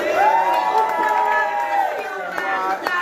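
A crowd of airline passengers cheers and whoops aboard a TUI Airlines flight with an all-Black crew, a sustained mass of voices with a rising shout near the start, continuing loud for about three seconds.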